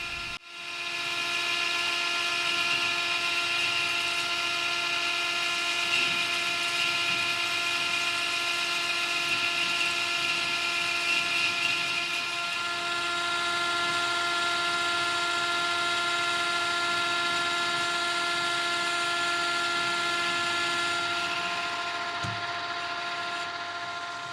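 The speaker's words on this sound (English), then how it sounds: "I'm running the lathe at only 210 RPM and I can see some build up occurring on the cutting edge" A metal lathe turns at 210 RPM while cutting, giving a steady, loud whining drone with strong sustained tones that holds evenly throughout and tapers slightly at the very end.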